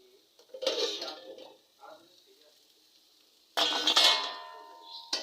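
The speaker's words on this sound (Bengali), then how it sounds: "এবার ঢাকা খুলবো" A lid comes off a pan of bitter gourd and fish roe posto, giving a short metallic clink followed by a sudden burst of sizzling, close and fairly loud after a quiet stretch.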